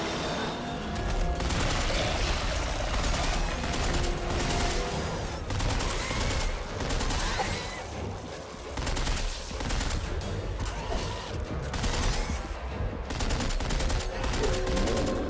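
Video game gunfire from Dead Space 3 on Xbox 360 crackles in rapid, dense bursts with brief pauses, mixed with game effects and occasional speech.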